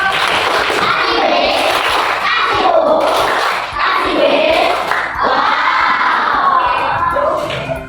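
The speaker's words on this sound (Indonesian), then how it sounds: "kasih tepuk tangan untuk Kak Maya" Children in a classroom coding and artificial intelligence lesson cheer and shout loudly for Kak Maya, a dense, continuous burst of young voices with scattered thumps throughout.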